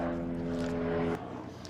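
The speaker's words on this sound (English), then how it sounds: "seems to be a helicopter going over" Helicopter passing overhead, a steady low droning hum with layered tones, moderately faint and distant, that drops away abruptly partway through.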